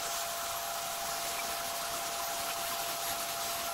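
A Fugetsu electric eyebrow trimmer shaver hums continuously, a thin, steady high-pitched whine held close and alone.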